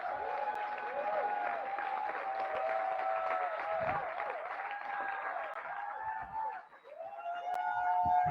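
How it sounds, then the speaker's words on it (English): Applause after a keynote speech, heard as a soft, distant wash of clapping under a sustained musical tone that dominates the sound, with a short dip near the end. "A big hand of applause."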